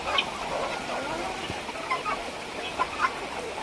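Hens shelter from rain inside a farm shed and cluck repeatedly, with several short, fairly close calls scattered over a steady background of low shed noise.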